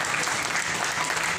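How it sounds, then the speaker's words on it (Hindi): An audience at a stage event for former soldiers breaks into loud, dense applause, a continuous wash of clapping from many hands filling the whole moment. "जोरदार तालियों की गड़गड़ाहट चाहिए"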